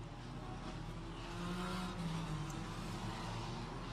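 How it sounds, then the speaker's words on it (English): Formula 4 race cars roar around the Guia street circuit in Macau, engines droning loudly and rising as they pass close by, with a steady high-revving whine throughout. "See how nimble these F4 cars look around the Guia circuit."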